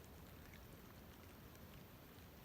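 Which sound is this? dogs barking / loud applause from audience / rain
rain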